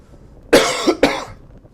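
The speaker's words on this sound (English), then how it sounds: "I really apologize for that, for this coughing." Two sharp, close coughs in quick succession from a cyclist commentating on a group training ride, harsh and breathy, against a quiet background.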